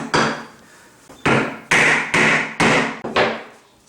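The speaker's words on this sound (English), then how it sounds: "Let me go get a hammer. We're going to try to tap this down a little bit." A hammer taps down a shower drain flange fitted with a rubber gasket: six sharp, ringing metallic strikes in a fairly steady rhythm, each one close and loud with a brief decay, and no talking.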